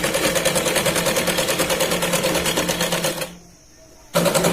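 Sewing machine stitching dress fabric cut from a saree for a Punjabi suit, a loud, close, steady rapid needle chatter that stops briefly near the end and then starts again.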